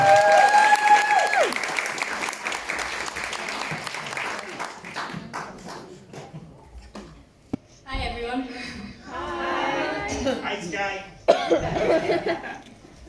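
Audience applause at a Welsh Factor talent contest heat, clapping and crowd noise fading over several seconds before coughs and chatter take over near the end.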